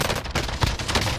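Pistol gunfire in the video game Call of Duty Warzone, a dense run of sharp shots with other battle noise, loud and continuous with no talk.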